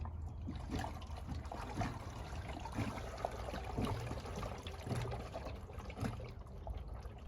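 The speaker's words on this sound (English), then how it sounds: "There are 2 plugs in the bottom of the pump that are removed to allow water to drain." Water draining out of a Hayward Maxflo VS pool pump with its bottom plugs removed: a steady trickling, splashing flow, close and continuous at moderate level throughout.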